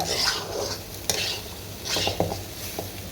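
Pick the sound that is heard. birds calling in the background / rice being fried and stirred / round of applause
rice being fried and stirred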